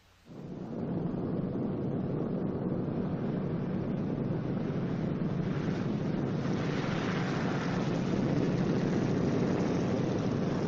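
A Boeing B-29 Superfortress landing, its piston engines a loud, sustained roar that swells in after a quiet start and holds steady to the end, alone without talk.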